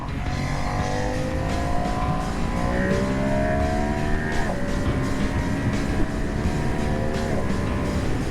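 A 2026 Ducati Monster V2 motorcycle accelerates hard on a test ride, its engine note climbing steadily and dropping briefly at quick gear shifts before rising again, loud and close with constant wind rush.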